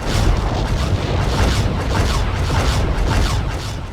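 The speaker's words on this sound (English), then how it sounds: "Something just exploded on him." Deep booming blasts rumble from an enemy ship under fire in Star Trek: Klingon Academy, a loud continuous roar with repeated swelling thumps layered over game sound.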